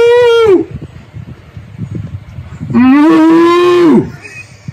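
Cattle on a hilltop farm lowing loudly and nearby, two long drawn-out moos separated by a short gap filled with breezy outdoor background noise.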